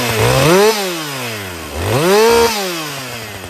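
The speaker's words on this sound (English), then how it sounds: "Let's see if I do a fast idle and start." Modern chainsaw firing up from a fast-idle setting, its engine surging up twice in quick rising-and-falling revs, loud and close with no talking.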